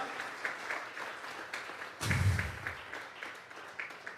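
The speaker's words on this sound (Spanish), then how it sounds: "Vamos a regalarle ofrenda de palmas al Dios de la gloria." A church congregation breaks into a burst of applause at a Sunday service, a short swell of clapping rising suddenly and then fading back toward the quieter room tone.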